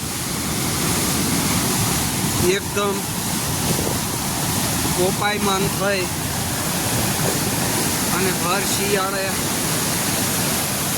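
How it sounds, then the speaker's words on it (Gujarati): Bhaguda waterfall in flood during winter, a steady loud roar of rushing water filling the whole clip, with someone talking over it throughout. "ભગુડા ધોધ"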